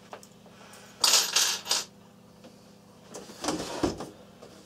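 Seven long screws shaken loose from the back of a turned-over Sharp GF-6060 radio cassette player, giving two short bursts of close metallic rattling and clinking separated by a quieter pause.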